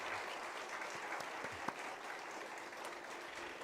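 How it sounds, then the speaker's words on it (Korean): A church congregation applauds its pastor at an evening revival meeting, a steady, dense wash of clapping that fills the space and runs without pause from start to finish. "우리 일어나셔서 박수로 우리 목사님께 감사를 드렸으면 좋겠습니다"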